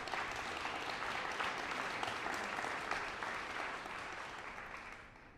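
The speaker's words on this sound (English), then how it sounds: "Let's give them all one more round of applause." Dinner crowd at an awards ceremony applauding the event sponsors, thick continuous clapping that stays full before tapering off near the end.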